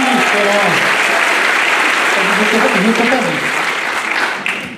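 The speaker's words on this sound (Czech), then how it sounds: "Tleskali, tak si to líbilo" Audience applause fills a celebratory concert in Kyjov, steady and dense throughout, tapering slightly near the end as clapping thins out.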